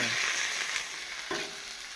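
Chinese kale stir-fries in a pan with pork, a loud continuous sizzle and scraping toss with no talking.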